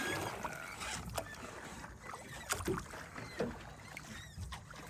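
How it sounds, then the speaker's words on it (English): Oars splash and knock rhythmically as a small boat is rowed through water, with irregular dips and strokes and a steady outdoor background. "Rowing the boat."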